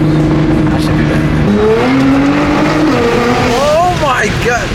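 Tires spinning on a 1000-horsepower Corvette, loud close engine roar with rising and falling pitch and squealing wheelspin, voices talking over it.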